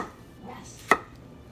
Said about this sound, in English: My husband is over here chopping this up fine.